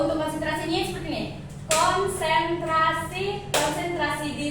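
Hands clap in a classroom concentration game, sharp bursts of clapping from a group breaking in between a teacher's steady spoken chanting, loud and close in a reverberant room.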